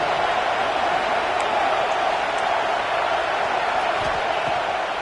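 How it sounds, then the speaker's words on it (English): A home crowd roars at a college football game between Notre Dame and UNC, a dense, steady wash of cheering noise that holds at a constant loud level throughout. "how nice is it to have the home crowd going absolutely bananas?"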